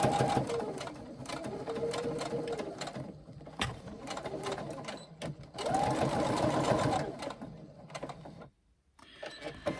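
A sewing machine stitches across the side seam and box corner of a carry-all tote, running in steady bursts with brief pauses, close and fairly loud.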